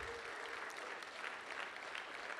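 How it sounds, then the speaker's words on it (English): A church congregation gives a brief round of applause during a service, a steady wash of many hands clapping at moderate distance with no distinct voices. "I think they deserve a round of applause."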